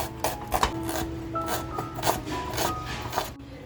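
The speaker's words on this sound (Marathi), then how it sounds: "तो कांदा अगदी बारीक कापून घेते" A knife finely chops a small onion on a board, a quick run of close, dry, irregular cuts and rasping strokes, moderately quiet, with no one talking.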